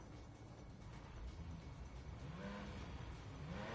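A Porsche with love bug stripes revs in the Driveclub racing game, its engine note rising in pitch over steady broadband car noise, loud and continuous, no talking.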